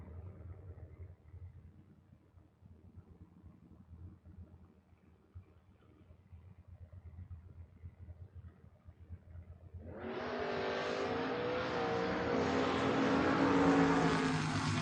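At a drag strip, a '93 Mustang and an S10 pickup truck sit under a low distant engine drone, then a loud, broad engine roar surges in and holds steady as they launch and race.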